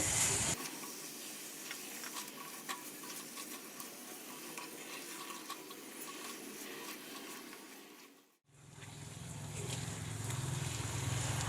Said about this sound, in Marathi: आणि हे व्यवस्थित आपल्याला आता परतून घ्यायचं आहे